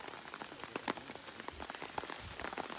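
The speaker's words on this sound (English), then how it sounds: "presumably trying to avoid the rain hitting their faces" Rain falling steadily outdoors at a tribal council gathering, a dense even patter of drops hitting surfaces and clothing throughout.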